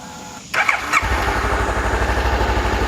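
A 2014 Honda CB500X fuel-injected two-cylinder motorcycle engine cranks briefly, catches and settles into a close, steady, pulsing idle with an even rhythmic throb.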